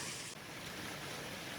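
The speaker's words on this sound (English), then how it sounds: "crossing the water, checking out the little waterfall" A creek spills over a small waterfall along a hiking trail, giving a steady, continuous rush of water close to the microphone.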